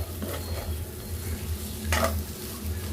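Ivy gourd and grated coconut fry in a pan with chili powder while a spoon stirs them, giving a steady sizzle under scraping, with one brief louder scrape midway.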